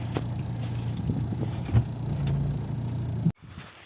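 A VAZ 2109 hatchback creeps slowly along rough field roads, its low engine drone steady and close with a few bumps and knocks before the sound cuts off abruptly near the end.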